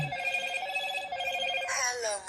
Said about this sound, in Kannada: ಅಣ್ಣ ಜಾಕಣ್ಣಿಗೆ ಒಂದು ಫೋನ್ ಮಾಡಿ.